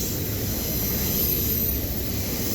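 Train 127 rolls past with a special engine on the point, a steady broadband rumble of railcars and wheels with a high whine on top, heard close and continuous without any voices.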